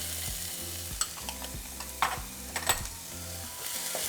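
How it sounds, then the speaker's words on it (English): Half an onion and a small green pepper sauté in hot oil, with a steady close sizzle and a few sharp utensil clinks and scrapes against the pan. "We're going to saute for 3 minutes."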